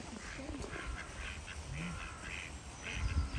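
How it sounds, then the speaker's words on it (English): Ducks at a park quack in a few soft, scattered calls over steady outdoor background noise, heard from close by with no talk over them. "The ducks are chasing you."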